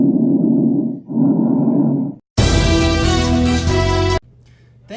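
A person's voice imitates bronchial breath sounds of consolidated lungs, two harsh breathy bursts followed by a loud tonal, noisy blast, close and alone.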